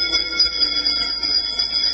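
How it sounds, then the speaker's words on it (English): A bell rings in the séance scene of the Haunted Mansion ride soundtrack, its sustained high metallic tones shimmering steadily and fairly loud for the full two seconds over a low, murmuring musical bed. "give us a hint by ringing the bell"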